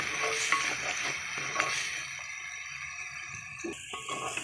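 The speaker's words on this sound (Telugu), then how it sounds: "ఇది కూడా కొంచెం పచ్చి వాసన పోయేలాగా వేగనిద్దాం" A coriander and mint green paste fries in oil in a pan for a chicken curry, with a quiet sizzle and a few stirring scrapes early on, and the hiss easing toward the end.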